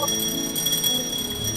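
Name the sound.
electric bell ringing inside a bell jar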